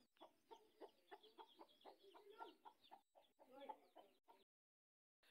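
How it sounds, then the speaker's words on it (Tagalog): A chicken clucks in a rapid, agitated series of short calls, close by, with brief pauses between bursts. "may manok na galit sa akin yun"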